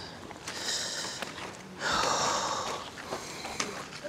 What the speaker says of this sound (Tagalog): Hingal na agad.